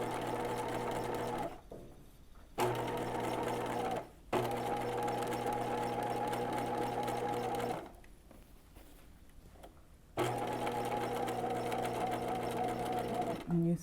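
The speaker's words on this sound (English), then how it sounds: "we could do our top stitching 1/8 of an inch from the fold" A sewing machine top stitches contrasting fabric in several steady runs of rapid whirring, broken by short pauses where it stops, close and clear.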